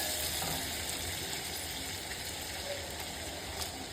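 Butter heating in a pan for Agri-style paneer curry, giving a steady, close, hissing sizzle that continues evenly throughout, with no talking.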